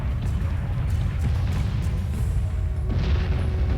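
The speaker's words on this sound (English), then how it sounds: "that was such a nice explosion" A starship explosion in the space combat game BSG Deadlock, a deep rumbling boom with rolling low-end blasts and scattered crackling bursts, steady and fairly loud for nearly four seconds.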